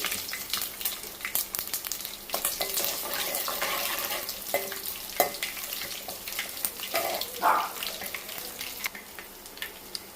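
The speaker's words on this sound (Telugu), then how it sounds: "అవి ఫ్రై అవుతున్నాయి కదా" Cumin, mustard seeds, dried red chilli and crushed garlic fry in hot oil, giving a crackling, spattering sizzle with scattered pops and a few stirring knocks at moderate loudness.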